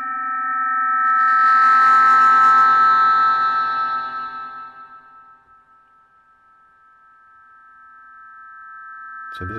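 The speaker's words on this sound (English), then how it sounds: "So this is just the reverb now self-oscillating." Self-oscillating reverb board in a DIY synth, a steady ringing multi-tone drone that swells, fades to near silence around the middle, then slowly rises again.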